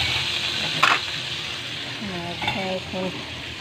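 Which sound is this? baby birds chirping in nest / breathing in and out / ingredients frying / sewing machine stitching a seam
ingredients frying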